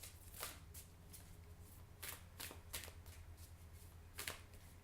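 A deck of inspiration cards is shuffled by hand for a weekly card pull, giving several quick riffling bursts at irregular intervals over a low steady hum, fairly faint and with no talking.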